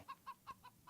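Chickens in an Age of Empires match on the Nomad map give five evenly spaced short clucks, faint and alone.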